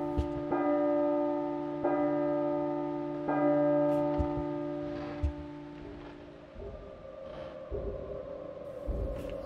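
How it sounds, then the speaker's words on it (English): Church bell tolls in the horror game P.T. (Silent Hill), three resonant strikes a little over a second apart, each ringing out and decaying, followed by low rumbling ambience and soft knocks. "Fuck is the bell tolling?"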